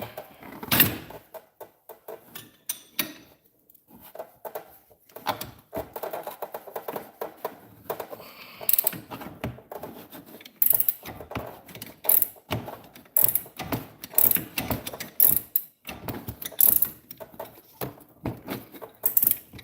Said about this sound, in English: I'm going to do the old double up wrench trick here